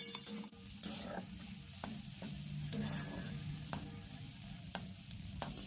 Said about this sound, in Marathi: आपण हलवणार आहोत चांगलं.